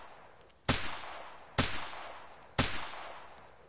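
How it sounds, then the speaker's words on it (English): Three loud, sharp gunshots from a survival video game ring out about a second apart, each with a decaying tail, and no voice is heard. "See if I can shoot him off the roof."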